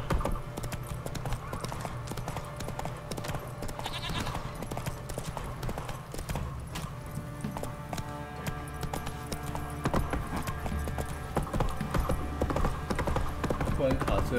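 A horse gallops in The Witcher 3: Wild Hunt, a continuous rhythmic drum of hooves with game sounds and a voice talking over it.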